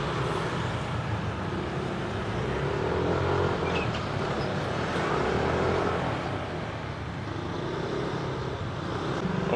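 Dense road traffic in Kuta, Bali, passes as a continuous near wash of engines and tyre noise, swelling and easing as vehicles go by, with scattered horn-like tones and no clear talk.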